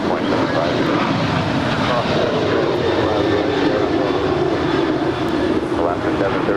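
An airplane at Los Angeles LAX airport roars steadily with a broad, loud engine rumble that holds level throughout, close by and without a break.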